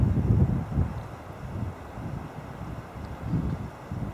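Wind moving through a coniferous forest, a low rushing roar that swells and fades in gusts, with some buffeting against the microphone and no voices.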